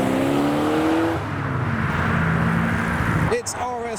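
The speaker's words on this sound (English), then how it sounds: "We've got the Rover 3500 with some V8 noises." A Rover 3500 V8 engine revs and roars with a broad, throaty rumble close by at a custom car meet, while voices talk over it near the end.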